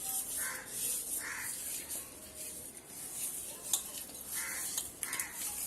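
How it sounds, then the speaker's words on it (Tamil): Fish pieces are stirred and rubbed with salt in a bowl, giving soft wet squelching and swishing with a few light clinks against the vessel, quiet and close. "உப்பு போட்டு இப்படி தான் குழம்புறோம்."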